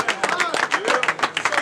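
Crowd clapping after a rap battle: quick, uneven claps from several people ring out close by, mixed with overlapping voices and chatter.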